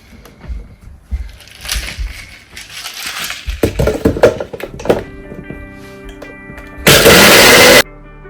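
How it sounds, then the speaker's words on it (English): A blender crushing ice for a frozen mocktail, with scattered clunks and rattles of ice before a loud, steady whirring burst near the end that cuts off abruptly. "I'll close my blender and I'll give this a quick blend."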